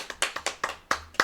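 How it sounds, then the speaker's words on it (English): A single woman clapping for herself, about eight crisp, close hand claps in an uneven quick rhythm, heard on their own without talk. "I will clap for myself."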